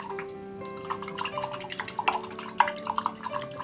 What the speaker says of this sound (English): So we're going to rinse off our brush really good.